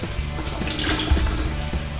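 Liquid pours steadily into a can cooker, a continuous close splashing, gurgling flow lasting throughout.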